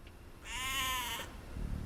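A single sheep bleat from the video game Age of Empires 2, a short wavering bleat in the middle against a quiet background.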